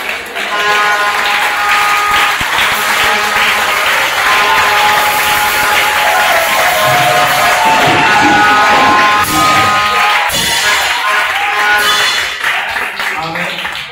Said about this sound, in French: Merci pour les belles acclamations.